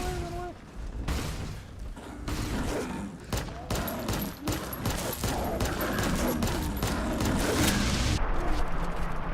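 Chinese assault rifle firing in Fallout 3, rapid bursts of gunshots with sharp repeated cracks, loud and close, interspersed with game sounds and someone talking over parts of it.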